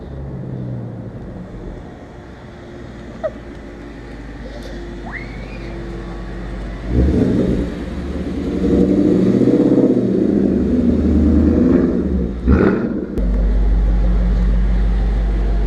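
A Ford Mustang GT with a Borla exhaust idling with a deep rumble, then revving up loudly into a throaty exhaust roar that holds, dips briefly, and returns to a heavy idle.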